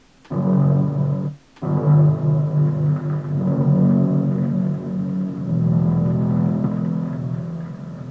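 A marching band classical record sample, pitched down about 2.5 octaves, plays as a deep, rumbling sustained tone with a brief dropout early on, then continues steadily and loud.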